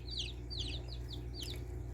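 Young meat chickens peeping and chirping in an indoor brooder, several short high calls repeating in quick succession over a steady low hum.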